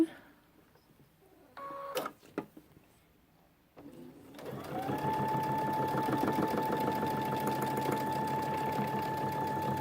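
A sewing machine stitches across the bottom of a backpack: a few short clicks and handling noises first, then a loud steady whirring run that continues to the end.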